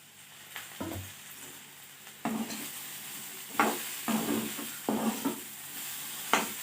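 Fish head frying in a covered pan for an Assamese panilao khar dish, with sizzling bursts that swell and fade several times alongside stirring and pan clatter, close and alone without speech.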